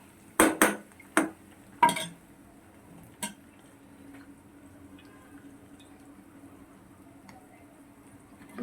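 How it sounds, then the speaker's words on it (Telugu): Ginger garlic paste fries in a pan for chicken pickle and is stirred now and then, with a few sharp metallic clinks of the spoon against the pan early on, then a quiet, faint background. "అంటుకోకుండా కొంచెం కలర్ వచ్చే వరకు వేపుకోవాలి, ఎర్రగానే వేపుకోవాలి"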